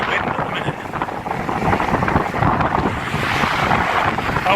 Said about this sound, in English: But it's a real squally wind at the minute.